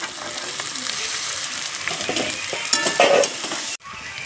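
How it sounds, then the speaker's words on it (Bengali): Fried potatoes, spices and green peas sizzle in a wok, a continuous close hiss overlaid with scraping stirs and a few louder clanks near the end before the sound cuts off abruptly. "আলুর সাথে মশলার সাথে ভালো করে কষিয়ে নিয়েছি"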